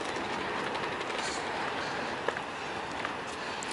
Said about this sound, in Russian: Там пойдет поезд, видите.